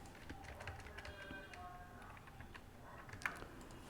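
Faint, scattered taps on a computer keyboard, light irregular key clicks at a quiet level against a soft background.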